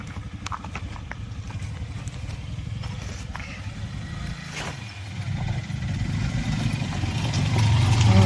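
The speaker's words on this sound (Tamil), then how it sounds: "ஸோ வண்டியை மேலே ஏற்றிட்டு இருக்கோம்." Engine of a vehicle climbing a mountain road, a steady mid-pitched drone with rhythmic knocking that grows louder toward the end, with faint voices underneath.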